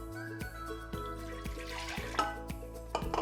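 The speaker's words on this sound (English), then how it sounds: "Pour 1 cup of cranberry raspberry juice." Cranberry raspberry juice poured into a pitcher, a steady liquid stream with splashing over an even background and a few soft knocks, close and alone without talk.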